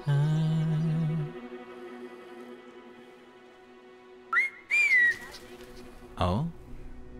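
Whistled calls to a bird in the video game Brothers: a short warbling whistle opens, then after a quiet stretch a few bright chirping bird-like whistles and a swooping call sound clearly over faint game ambience.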